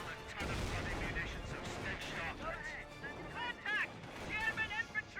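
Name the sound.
German machine gun fire in video game Company of Heroes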